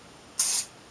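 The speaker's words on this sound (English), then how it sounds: "you take your spray adhesive and you just spray a light layer over your piece of cardboard" Spray adhesive is sprayed in a light layer onto a piece of cardboard: a single close, loud hissing burst of about a quarter second, set against quiet room tone.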